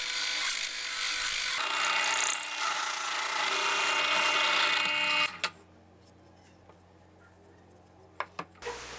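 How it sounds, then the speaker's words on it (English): A power drill with a hole saw cutting into wood, a loud continuous grinding whir for about five seconds, then stopping into a quiet room with a few brief knocks. "because you're going to be drilling with this hole saw both sides."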